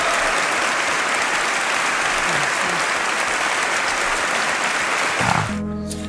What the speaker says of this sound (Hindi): लगभग 12 मिनटों तक बज रही तालियों ने चार्ली चैपलिन के जख्मों को खत्म कर